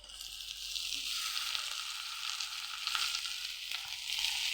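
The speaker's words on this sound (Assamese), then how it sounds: "যিহেতু আজি চেংমৰাখিনি ভাজি ল'ম" Chengmora fries in oil in a pan with onions, a continuous bright sizzle that swells and crackles at times, close by and fairly quiet, with faint stirring knocks and no speech.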